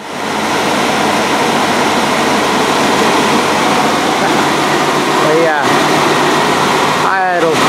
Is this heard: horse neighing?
no